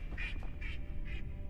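A duck in the video game Medieval Dynasty gives three short nasal quacks, evenly spaced and moderately loud over a low background hum, with no talking.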